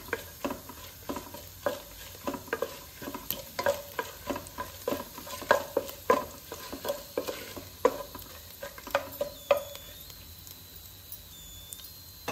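Vada batter for sambar vada is stirred and mixed in a bowl, a steady run of soft wet slaps and scrapes repeating at a quick rhythm, close and moderately loud, with a faint high tone behind.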